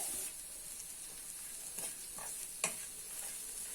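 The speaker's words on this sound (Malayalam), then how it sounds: "ഇനി ഇതിനകത്തേക്ക് 2 കറിവേപ്പില" Curry leaves dropped into a pan of chillies warmed by the pan's heat, giving a faint, steady sizzle with a few soft crackles and pops scattered through it.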